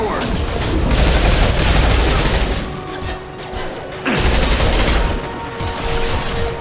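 Gunfire in the shooter game Mass Effect 2 with a Carnifex heavy pistol among the weapons, loud rapid bursts and booming impacts in two waves separated by a brief lull.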